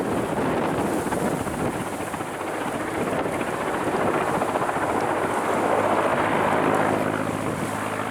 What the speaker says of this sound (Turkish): uçak helikopter var şu anda arkadaşlar